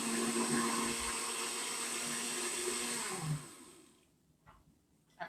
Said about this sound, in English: turn that blender on high for a while